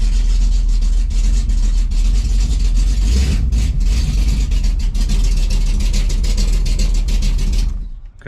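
A car engine runs loud and near with a steady, rough idle throughout. It cuts off abruptly at the very end.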